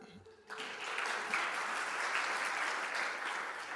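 A Unitarian Universalist congregation begins clapping after a brief spoken introduction, the applause swelling in and then holding as a steady, even patter through the rest.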